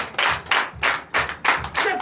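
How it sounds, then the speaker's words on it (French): Church congregation clapping together in rhythmic unison, about seven broad, loud claps at an even pulse, close and full with no talk. "Donnez l'acclamation."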